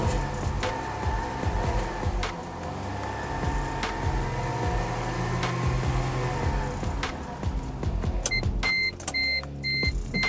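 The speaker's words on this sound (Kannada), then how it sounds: "ಗಾಡಿ ಸೌಂಡ್ ಕೇಳ್ಕೊರಿ ಈಗ" A used Maruti Ritz car idles with its engine running, a steady, fairly loud low hum and rumble up close, with a few beeps near the end.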